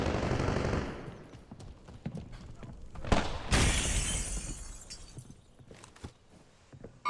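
Call of Duty Warzone firefight: sharp gunshots and rapid automatic bursts crack one after another, with a loud burst of shattering around the middle and scattered shots trailing off, close and harsh.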